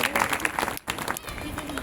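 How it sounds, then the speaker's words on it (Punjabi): A church congregation gives a burst of loud, dense applause that breaks off briefly and then resumes, with voices mixed into the clapping. "ਸੱਜਣ ਜੋਰ ਦੀ ਤਾੜੀ ਨਾਲ ਪਰਮੇਸ਼ਰ ਦੇ ਨਾਮ ਦੀ ਮਹਿਮਾ ਕਰਾਂਗੇ"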